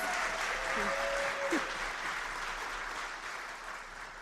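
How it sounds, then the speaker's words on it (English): At a transit agency awards ceremony, an audience claps for award recipients heading back to their seats; a steady, fairly soft wash of applause runs throughout, with a brief voice or cheer near the start. "One more round of applause for everyone as they go back to their seats"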